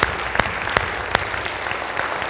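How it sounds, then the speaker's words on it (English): Audience applause in a school district gathering room honours PTO members, heard as a few sharp, evenly spaced claps standing out over a softer background patter. "Our PTO folks who are here in the room, got to give them a round of applause."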